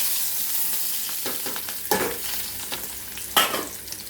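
Hot oil in a kadhai heated for frying small fish, a soft continuous sizzle with a few sharper crackles and clinks of a stirring spoon, close and fairly quiet, no voices.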